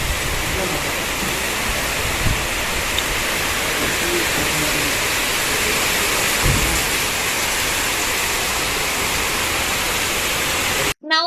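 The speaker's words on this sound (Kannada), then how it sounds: "ನಂತರ ತುಂಬಾ ಜೋರಾಗಿ ಮಳೆ ಕೂಡ ಬಂತು" Heavy rain pours down in a dense, continuous roar that stays loud and even throughout, with a brief break just before the end.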